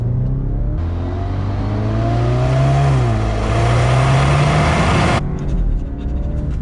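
An Alfa Romeo Giulia Ti Sport with a dual-clutch transmission accelerates hard, its engine note loud and close, climbing through a long rising pull before cutting off abruptly, with no voices.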